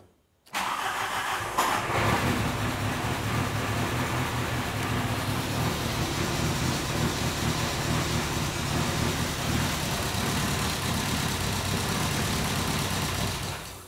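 A 1992 VW GTI, sitting unused for 8 years, cranks and catches at once, then settles into a steady, slightly uneven idle that runs close and loud to the end.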